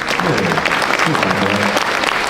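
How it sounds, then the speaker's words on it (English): Audience applause at a business conference panel, a steady wash of clapping with a voice speaking over it throughout. "you can clap for that"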